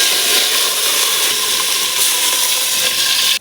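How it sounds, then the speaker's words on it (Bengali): Onions fry in a pan for a kitchen dish of kakrol with tomato and pangas fish head, giving a loud, steady, close sizzle that cuts off abruptly at the end. "আগে পেঁয়াজটা ভেজে নিচ্ছি"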